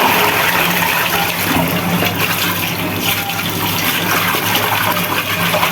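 Tap water runs steadily and close by while freshly cut fish is rinsed in a kitchen, a continuous broadband splashing hiss with no pauses and no talking.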